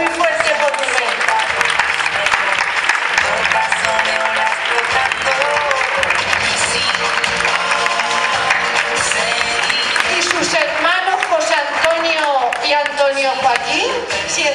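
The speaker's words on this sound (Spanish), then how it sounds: "Un aplauso muy fuerte por tu mente." Loud audience applause at a tribute event for children with cancer, sustained dense clapping with cheering voices and music-like tones mixed in throughout.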